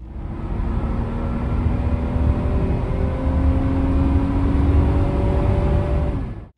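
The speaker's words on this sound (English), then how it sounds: "you finally get to hear the famous 2JZ growl" A Lexus GS300 with a 2JZ engine accelerates hard while merging onto a highway, a sustained engine growl climbing steadily in pitch under road and wind noise for about six seconds, then cutting off abruptly.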